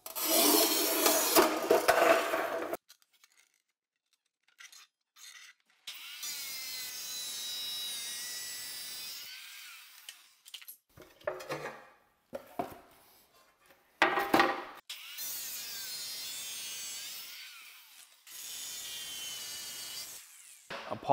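A tool cuts along marked lines in shower floor tile in several bursts of harsh grinding, each lasting a few seconds, separated by near-silent pauses.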